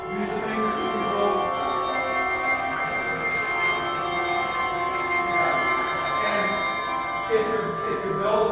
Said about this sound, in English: A shake is where you, again, this is where you keep the bell tight, the top, it's just quick, and then use the fingers to control.